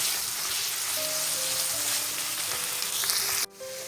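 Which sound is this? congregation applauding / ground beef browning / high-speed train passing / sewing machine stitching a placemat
ground beef browning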